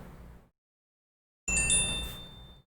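After a short silence, a phone notification sounds once close by, a bright ringing ding with a sustained tone that fades over about a second.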